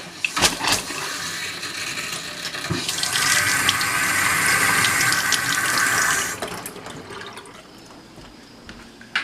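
Water gushes from a tap fed by old pipes that have sat unused, starting with a few clunks and sputters, running loud and steady for several seconds, then easing off to a quieter trickle.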